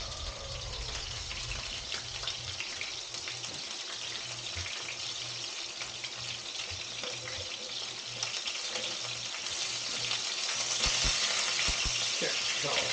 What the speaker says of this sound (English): Doesn't really take long to sear this.